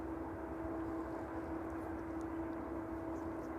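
An aircraft approaches East Midlands Airport, heard as a faint, distant and steady engine drone with no talk over it.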